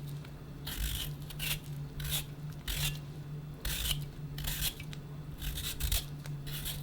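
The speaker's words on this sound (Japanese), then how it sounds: "平らな面をじゃがいもとエコノムを動かしながら一気に上から下に剥いていきます" Potato skin comes off under an Econome vegetable peeler in quick, crisp scraping strokes, about nine separate swipes spaced evenly over several seconds against a low steady hum, with no voices.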